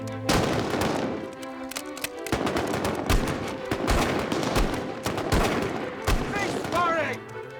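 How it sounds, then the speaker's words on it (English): Soldiers fire rifles on command at a World War I training range, a ragged volley of close sharp cracks and bangs spread over several seconds, with some overlapping shots and shouted voices. "Commence firing!"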